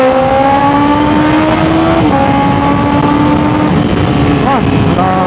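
A Honda CBR1000RR-R Fireblade SP sport motorcycle runs at high RPM on a road in Bulacan. A loud, close, steady engine drone with smooth pitch shifts continues throughout, mixed with wind rush.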